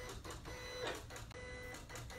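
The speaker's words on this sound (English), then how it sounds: "That's where the blade is cutting at a different force." A Silhouette Cameo 4 cutter with its blade set to 4 cuts paper without a mat, giving a steady mechanical whir with a few short rhythmic surges as the blade force changes, close and continuous.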